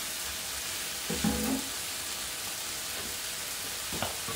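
Crispy rice and vegetable balls frying in a pan, giving a steady, loud, dense sizzle that continues throughout with slight swells, and no talking.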